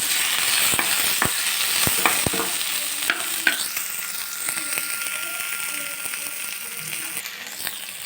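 Curry leaves crackle in hot oil as an okra breakfast dish cooks, with a steady sizzle under sharp clicks and scrapes of stirring in the pan.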